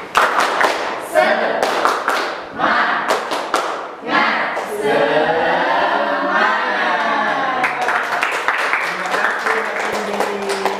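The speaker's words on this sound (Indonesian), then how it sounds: "Tepuk semangat." Students in a teaching-practice classroom perform a rhythmic 'tepuk semangat' clapping routine, sharp group claps in patterned bursts, then a stretch of chanting voices before the clapping resumes.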